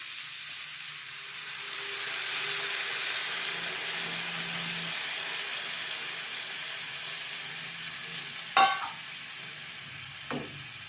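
Jaggery syrup poured into a cooking sweet potato mixture, a steady soft steaming hiss followed by two sharp knocks of a utensil near the end.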